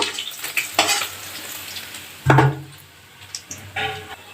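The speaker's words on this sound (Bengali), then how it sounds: "এইভাবে আমি আর যে মাছগুলো আছে ওইগুলো আমি একে একে ভেজে নেব" Small puti fish fry in hot oil in a pan, a soft steady sizzle broken by a few sharp scrapes and knocks as the pieces are stirred and turned.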